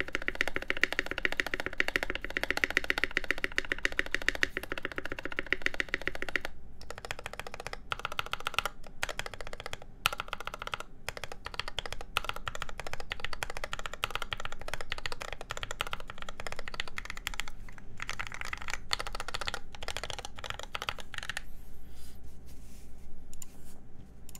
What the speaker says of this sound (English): This spacebar sound is the kind I like a lot.